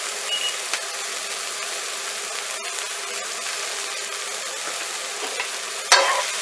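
Broccoli topped with fresh shredded Parmesan being stirred in a hot pan, a steady sizzle broken by scraping spoon strokes and a louder clatter near the end.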